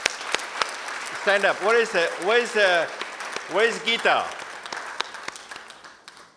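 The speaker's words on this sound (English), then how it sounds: "Let's give them a big round of applause." An audience applauds the founders at the closing ceremony of the DC South Asian Film Festival: scattered claps ring out while someone speaks over them, and the clapping thins toward the end.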